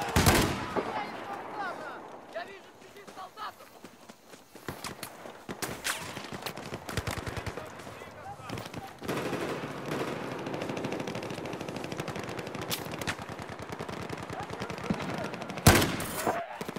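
In Battlefield 4, guns fired from the hip crackle in rapid, uneven bursts with sharp individual shots, loud and near at first, then mixed with a busier, more distant stream of gunfire.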